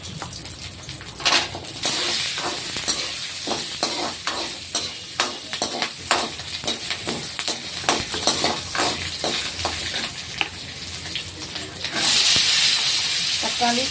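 Shallots, garlic, tomato and coriander sauté in a pan for white pumpkin chutney, giving a steady close sizzle and hiss broken by repeated scraping strokes of a stirring spoon, with a sharper burst of frying near the end.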